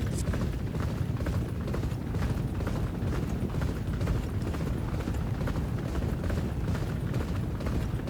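Racehorses surge out of the starting gate in the Champion Jockey: G1 Jockey & Gallop Racer video game, a dense, steady rumble of drumming hooves and clattering mechanism sound that stays loud and continuous throughout.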